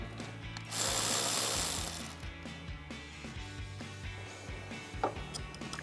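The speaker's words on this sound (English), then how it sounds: "I'm gonna loosen up the nut on my negative with a 10mm socket" Ratchet with a 10mm socket loosening the negative battery terminal nut on a 2019-2021 Silverado 1500, a rapid clicking ratchet burst followed by slower intermittent clicks and small metallic knocks, close and fairly quiet.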